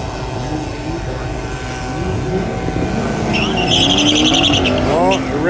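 Drag racing cars, among them a BMW, roar at launch on a dragway late on a Friday night, one loud engine rising and revving over the track din while people talk nearby.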